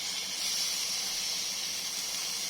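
Paneer tikka sizzling in a hot pan as it is turned over, a steady close hiss that holds evenly throughout with no voices.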